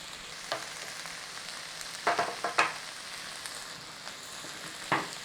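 Beef mince cooking dry in a pan for a cheeseburger pie: a faint, steady sizzle with a few short scraping stirs and clatters, quiet and close.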